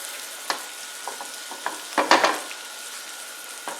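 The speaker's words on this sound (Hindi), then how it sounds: "इसे अच्छी तरह से मिक्स कर लेते हैं।" A spoon scrapes and knocks intermittently through egg curry masala frying in a pan, with a soft background sizzle and a cluster of louder stirring clinks near the middle.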